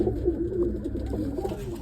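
Low, throaty pigeon coos roll on continuously, several birds close by inside a coop.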